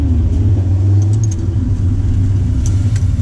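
A Lamborghini and an Audi S3 drive together in a convoy, with a loud, steady low engine drone and rumble close by, a few faint high clinks above it, and no talking.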